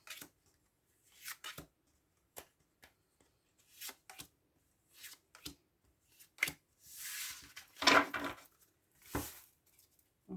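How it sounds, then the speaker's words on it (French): Two combined oracle card decks are shuffled and handled in a quiet room, producing soft, irregular riffles and brushing flicks, with a fuller burst of shuffling near the end. "je vais coupler les deux jeux et prendre 6 cartes de chaque"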